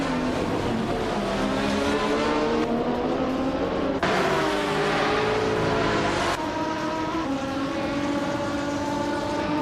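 Video game race cars, including a Porsche Carrera GTR, roar loudly and continuously, their engine notes rising and shifting through gear changes as several cars drive close together, with no talk over them.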